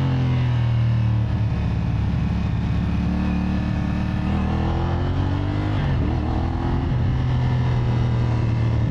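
A CFMOTO SR450 motorcycle engine while riding, a loud steady drone with a low rumble and wind noise, briefly shifting in pitch partway through as the rider changes speed.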